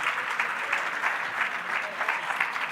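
An audience at a business empowerment conference applauds the panelists with steady, full clapping that fills the room and holds at an even level from start to finish.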